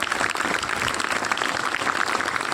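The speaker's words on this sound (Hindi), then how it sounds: "तालियां बजाइए इसके लिए।" A large audience claps together at a talk about India's Chandrayaan-3 lunar mission, a dense, steady wash of applause that stays loud and even throughout without a break.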